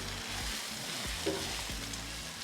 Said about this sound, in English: let's get these veggies mixed together